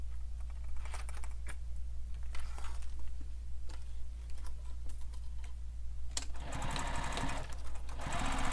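A sewing machine stitches the lining into a sling pack near the zipper pulls. The motor whirs in short, steady runs broken by brief pauses, close and continuous, and it grows louder and busier toward the end.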